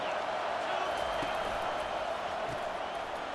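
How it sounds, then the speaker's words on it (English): A stadium crowd in College Football 25, during an Ohio State Buckeyes vs Purdue Boilermakers game, keeps up a steady, dense roar as it gets loud to help the defense, with no breaks and faint thuds underneath. "It is getting loud as this crowd tries to help its defense."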